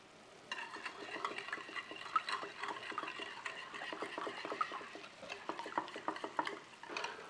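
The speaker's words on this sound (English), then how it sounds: "Go ahead and whisk that in" A whisk beating sugar into a heavy cream mixture in a bowl, a fast irregular series of close clicking taps against the sides, continuous for several seconds with no talking.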